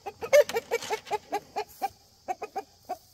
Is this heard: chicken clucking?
yes